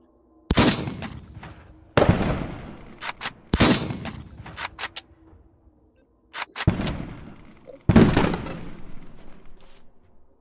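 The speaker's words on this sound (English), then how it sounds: "We have Cannonball shells, which fire off several Roman candle charges." Cannonball 12-gauge shotgun shells loaded with Roman candle charges fire in the H3VR game: about five sharp, loud blasts, each trailing off into a crackling decay, spaced a second or two apart.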